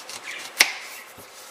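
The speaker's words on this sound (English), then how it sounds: "I'm going to slice the onion, and I'll then just cut it up in small slithers of onions" A knife cuts through an onion on a cutting board with a single sharp chop, followed by a fainter second tap, in a quiet kitchen.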